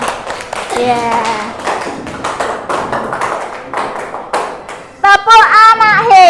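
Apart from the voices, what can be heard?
class clapping hands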